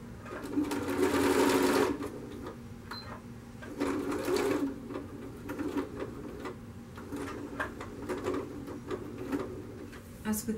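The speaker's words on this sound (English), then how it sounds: "I will be doing a second row of stitching along about a foot width in from the top" A sewing machine runs a second row of stitching along the top of an unlined curtain, whirring in bursts of rapid mechanical clatter that stop and restart, fairly close, with occasional quiet handling noises.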